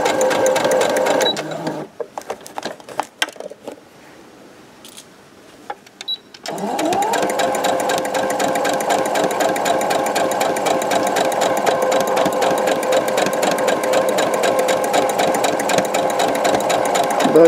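Domestic sewing machine stitching fabric for a chequebook holder, a steady fast whirring run that starts briefly, pauses with a few clicks, then restarts and holds high speed to the end, close and loud.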